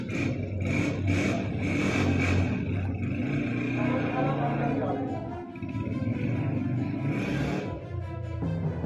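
Motorcycle engine kick-started and revving, a continuous loud mid-pitched engine roar with surging revs over about nine seconds, close by, with faint voices in the background.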